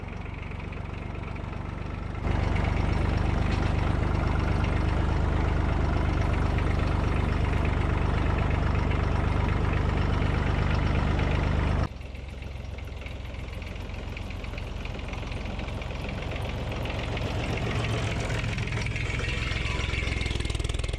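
An old Massey tractor engine idles with a steady, knocking chug, stepping up in loudness and pitch, then settling into a rougher running rhythm.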